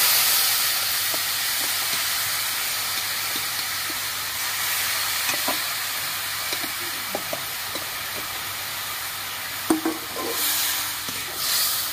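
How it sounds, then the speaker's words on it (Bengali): Steady broadband hiss of jaggery with a little water heating in a wok, with occasional soft clinks and scrapes; no voices. "আমি কড়াইতে গুড়টা দিয়ে দিচ্ছি, সামান্য একটু জল দিয়ে নিয়েছি কড়াইতে"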